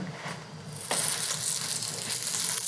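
Pancetta sizzles in a little oil on a grill pan, a steady crackling fry that grows louder and fuller after the first second and stays close and constant.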